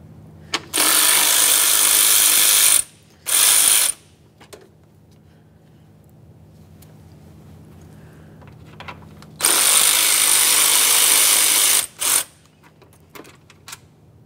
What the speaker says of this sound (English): Now we can start removing the two 10mm headed bolts that hold our AC fan to the radiator.